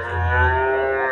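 Cattle moo at the Chattiparamba livestock market in Kerala: one long, loud, close bellow, deep and sustained for about a second, with no talk over it.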